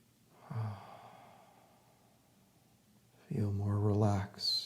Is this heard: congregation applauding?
no